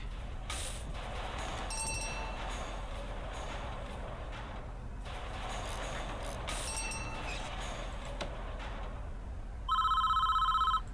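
A telephone rings in the prison-management game Prison Architect, its electronic bell tones arriving in a couple of short bursts over steady game background noise, with a louder ring near the end.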